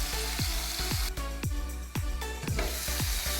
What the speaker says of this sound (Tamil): மூடி போட்டு நம்ம வதக்கிடலாம்.